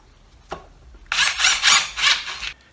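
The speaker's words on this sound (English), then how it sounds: "I'll just snug them up with the impact here" Impact wrench snugging up the front brake bolts on a Nissan 300ZX Turbo during a pad and rotor replacement, heard as one short tap, then a loud sustained whirring burst with pulsing hammering lasting about a second and a half.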